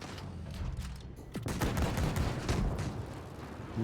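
A tank in World of Tanks Blitz fires in rapid bursts, a string of sharp, close gunshots rattling off one after another over a rumbling background.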